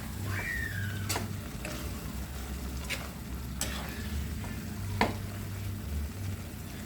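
Pork pieces frying in a pan for binagoongan give a soft, even sizzle throughout, broken by a few sharp clicks and scrapes of stirring and one brief high squeak near the start.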